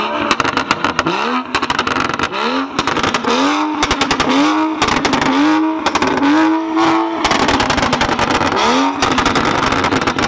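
Tuned BMW F32 435i with an N55 engine revving hard through repeated full-throttle pulls, pitch climbing and dropping with each gear, loud and close throughout with no talk.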